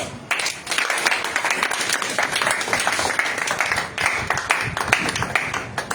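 An audience at a political address in Attécoubé breaks into loud, steady applause. Dense clapping lasts throughout, close and full, with faint crowd voices mixed in.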